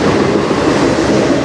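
A freight train pulled by locomotives rolls past on the Strathroy Sub, a loud, steady, close rumble and roar filling the air without pause.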